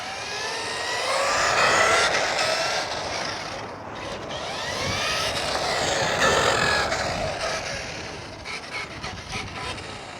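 Kyosho Fazer Mk2 Nissan Skyline 2000 GT-R RC car with its electric motor revving under raised throttle, a continuous whining, rasping drone with rising and falling pitch sweeps, fairly close, no talk.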